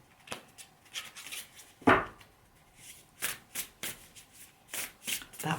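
Oracle cards are shuffled and drawn close by: a series of quick, papery riffles and soft slaps in irregular bursts, with one sharper flutter near the start and quiet gaps between.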